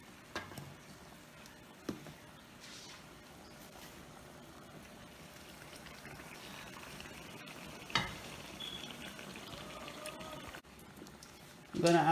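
Onions fry in a pot for boiled chana, a steady low sizzle running throughout with a few sharp stirring knocks near the start, middle and end.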